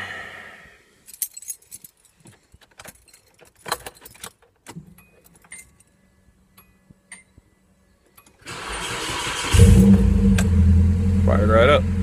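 A Fiat Panda's engine cranks and fires up just after a clutch swap, preceded by keys jangling and scattered clicks, then a steady close idle that swells briefly as it catches.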